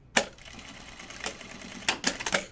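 Sewing machine stitching a box stitch on fabric for a bin, short bursts of rapid mechanical clatter separated by pauses, close and moderately loud.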